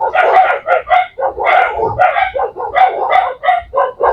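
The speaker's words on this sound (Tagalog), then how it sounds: "Maraming alagang aso." Pet dogs on a farm bark in rapid, repeated bursts, loud and close, with a few yips mixed in and no pause across the stretch.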